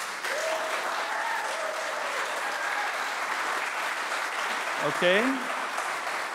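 Audience applause for Austria's Wikipedia for Peace project during a Wikimania 2016 vote on Wikimedia chapter projects, a steady clapping wash lasting throughout, with a speaking voice over it near the end.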